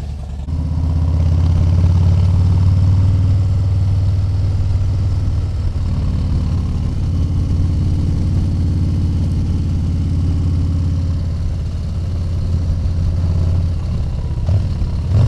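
A Harley-Davidson Low Rider ST motorcycle engine runs at a steady, loud low rumble, holding an even throb throughout with a slight change near the end.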